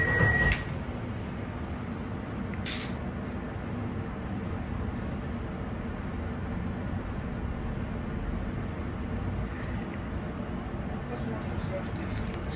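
A London Overground Lioness Line train to Watford Junction rumbles along steadily with a continuous low roar, a brief beep at the start and a short clatter partway through, with a voice speaking faintly.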